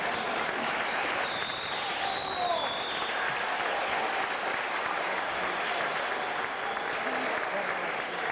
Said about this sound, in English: will you please rise and give these parents a round of applause.